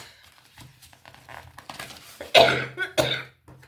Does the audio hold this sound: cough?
yes